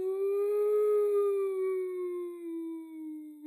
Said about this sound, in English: That's the sound of an ambulance.